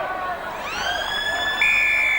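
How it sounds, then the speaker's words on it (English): Half-time siren at a 2002 rugby league match between Halifax and Bradford, a long rising electronic wail that swells and holds steady over the stadium crowd noise and a commentator's voice. "There's the half-time siren."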